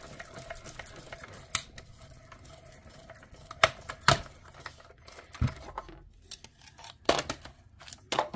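Scissors snip through cardstock for a greeting card in a series of quiet, irregular cuts and rustles, close and alone with no speech.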